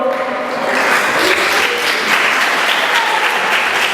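A crowd claps and cheers steadily, a loud, dense wash of applause with scattered whoops that holds for the whole stretch.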